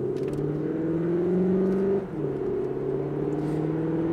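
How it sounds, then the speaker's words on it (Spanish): A Cupra car accelerates gently at low speed with a simulated engine sound: a rising tonal drone climbs for two seconds, breaks off for a shift, then resumes steadily, heard close from inside the car. "Lo que hace es simular el sonido como si la aceleración fuera la hostia"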